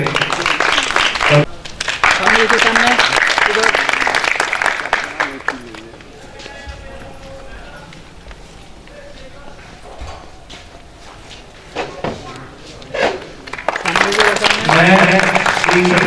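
An audience at an Indian award ceremony applauds loudly to welcome an honoured doctor, a dense sustained roar of clapping that fades to a quieter murmur mid-way, with a voice heard, then swells again near the end.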